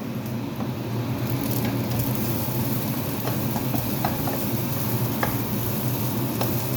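Pork stir-fried in a pan sizzles steadily, with scattered light scrapes and soft stirring clicks over the constant hiss of hot oil, heard close.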